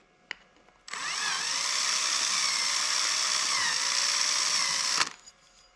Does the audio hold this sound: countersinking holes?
yes